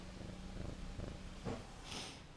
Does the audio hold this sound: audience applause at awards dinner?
no